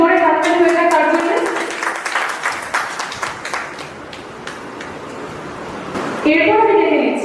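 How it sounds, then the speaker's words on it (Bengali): Loud audience applause at a local reality-show stage event, a dense wash of clapping across the clip, with speech-like noise and a voice rising at the end. "একটা জোরে হাততালি হয়ে যায় তার জন্য।"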